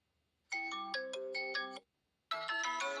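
A melodic phone ringtone plays as a preview on a Vivo Y38 5G smartphone. Two bright, clear bursts of tones are split by a short pause, and no one speaks.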